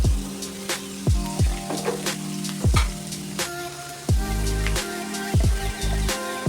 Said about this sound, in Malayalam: ഇനി നമുക്ക് ചെറുതാക്കി അരിഞ്ഞ് വെച്ച 5 സവോള, ചെറിയതാണ്, മീഡിയം സൈസ്, ഇനി അതിലേക്ക് ഇട്ട് കൊടുക്കാം.